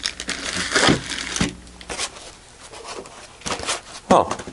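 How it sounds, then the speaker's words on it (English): Packaging being pulled off a UNI-T UT8805E 5½-digit bench multimeter during unboxing, with close crinkling plastic and cardboard rustles in irregular bursts. "let's remove the packaging here"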